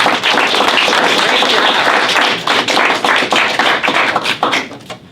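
Sustained applause from an audience at a school board meeting after a school program, dense steady clapping that slowly thins and fades toward the end.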